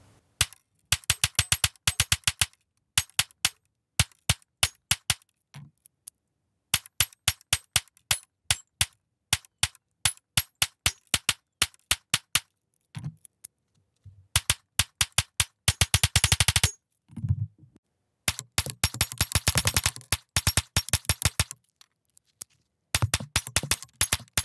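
Springfield Prodigy pistol fired in long strings of rapid, sharp, loud shots. Bursts are separated by short silent pauses, as if between magazines, with a few low thuds between strings.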